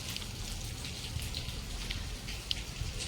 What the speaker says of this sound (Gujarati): વરસાદ બી કન્ટિન્યુઅસ પડે છે સવારથી